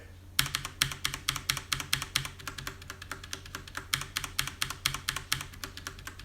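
Rapid, clacky keystrokes on a mechanical keyboard without O-rings, loud and close, with sharp bottom-out clicks in an irregular typing rhythm.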